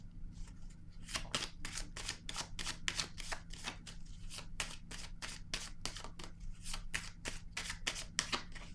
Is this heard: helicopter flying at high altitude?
no